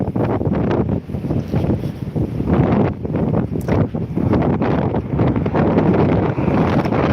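Strong, steady wind buffets the microphone throughout a December coastal walk from Hollym to Withernsea, a loud continuous roaring rumble with gusty swells and no talking.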